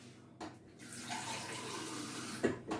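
Tap water runs into a kitchen cup for a few seconds, a steady broadband rush that starts abruptly, holds, then cuts off with a small clunk near the end; close and fairly quiet, with no talking.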